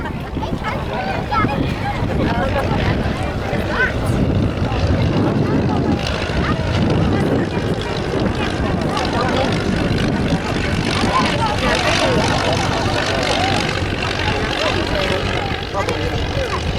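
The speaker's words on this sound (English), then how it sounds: "This is a Booker Youngman and a Booker Youngmeister." Bücker Jungmann and Bücker Jungmeister vintage biplanes flying past at RAF Cosford Airshow 2016, a loud continuous propeller-engine drone with wind buffeting, heard beneath a commentator talking over a PA.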